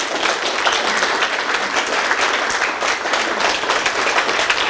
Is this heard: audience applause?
yes